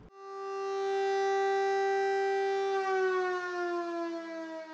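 A civil defense alert siren in Monaco, the monthly test signal, holds a steady loud wail for several seconds before its pitch dips slightly and it begins to fade, with no voices over it.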